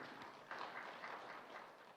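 Audience applause following a presentation at a college forum hall, a faint, steady wash of clapping from a distant crowd.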